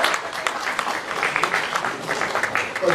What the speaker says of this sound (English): Let's actually give a round of applause for doing what you do.